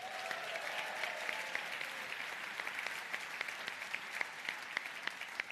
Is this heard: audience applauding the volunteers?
yes